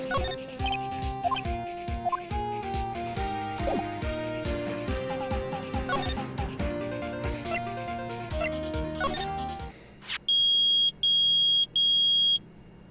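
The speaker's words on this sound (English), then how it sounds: "It's beeping! The metal detector found something!" After music fades out, a metal detector at a lake gives three loud, evenly spaced, sustained electronic beeps, close and alone.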